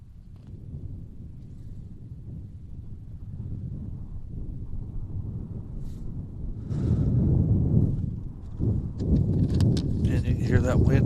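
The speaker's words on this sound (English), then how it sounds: "hear that wind gusting?" Gusty wind buffets the microphone outdoors on a golf course, a low rumbling roar that swells and strengthens in the second half, with voices talking faintly underneath.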